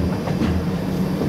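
Kolkata–Sairang express train crossing a river bridge, a steady dense rumble of wheels and carriages heard from inside, continuous and loud with no talk.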